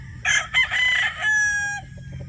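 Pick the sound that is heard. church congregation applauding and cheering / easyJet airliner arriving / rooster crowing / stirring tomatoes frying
rooster crowing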